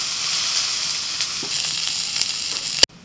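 Whole spices such as bay leaf, dried red chilli, cardamom, cinnamon and cloves sizzle in hot mustard oil in a kadai, a steady close hiss with a few light stirs before it cuts off abruptly.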